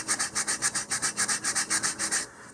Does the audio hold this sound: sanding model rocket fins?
yes